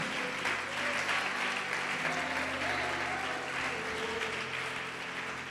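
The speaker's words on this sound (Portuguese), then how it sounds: "Você pode aplaudi-lo e glorificá-lo?" Dense, steady applause from a church congregation fills the space for several seconds, with a faint sustained tonal hum underneath.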